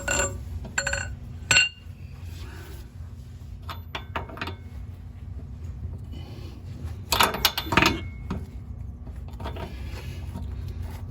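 Sharp metallic clinks and ratcheting clatter ring out as a bolt is broken loose with a long 1/2-inch drive wrench while restoring a 1985 Trans Am. A louder burst near the start and another late sit over a low steady hum.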